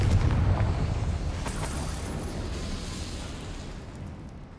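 A deep explosive boom from a video game's Confringo blast spell, loud at the start with heavy low rumble, then a long fading roar of debris and echo trailing off over several seconds, with no talk.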